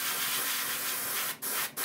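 Fine paint mist sprays in a steady, close hiss, used to paint a model's pectoral fins, with two brief pauses near the end.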